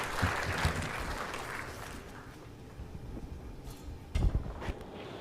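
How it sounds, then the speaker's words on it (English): Business education conference audience applauding as panelists walk to their seats, a soft, distant spread of clapping that thins out partway through, with some scattered thumps and movement noise. "let's give them a nice round of applause as they take the seats"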